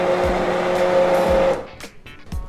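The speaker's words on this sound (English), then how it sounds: "So turn off and simply with a hand blender blend everything." A hand blender whirs through a pot of softened vegetable soup, a loud steady buzzing that cuts off after about a second and a half, leaving scattered clatter and bumps.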